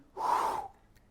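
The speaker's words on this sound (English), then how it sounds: "exhale on exertion" A single forceful breath out during a barbell curl, a short, close, breathy rush lasting about half a second, then quiet.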